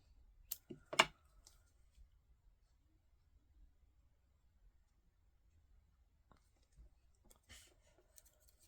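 Paper is trimmed with scissors to cut a stem off a handmade card: a couple of sharp snips close together near the start, then faint scattered clicks and one more soft burst later, with no talking.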